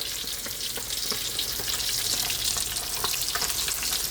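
Tilapia fries in a pan with a steady, dense sizzle and crackle, close and fairly loud, with small pops scattered throughout and no talking.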